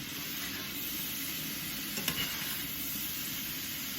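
Butternut squash hash with pasture-raised pork sausage sizzles steadily in a pan, a constant close frying hiss with a brief clink of stirring midway.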